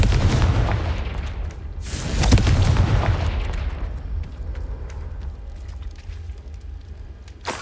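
A Confringo fire spell explodes in the Hogwarts Legacy video game, a loud booming blast that rolls off into a rumbling tail, followed by smaller crackles and pops.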